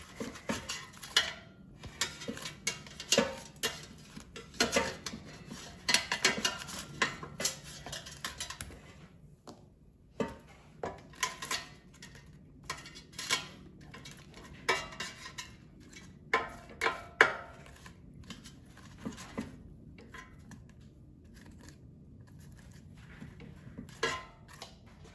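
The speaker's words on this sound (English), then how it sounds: "let's just try to flip the gyoza so they cook evenly" Trader Joe's gyoza being flipped and pried apart in a metal air fryer basket, a string of light clinks, scrapes and taps at an uneven pace, close and moderately quiet, with no speech.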